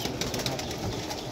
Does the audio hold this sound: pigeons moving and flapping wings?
yes